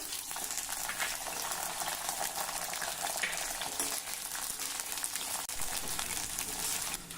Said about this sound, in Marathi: आता फ्लावर देखील तळून घेऊया